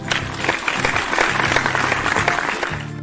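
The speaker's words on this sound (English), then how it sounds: "Let's give ourselves a clap." Classroom audience clapping together in a dense, steady burst of many hands, fairly loud and continuous, with a low tonal hum underneath throughout.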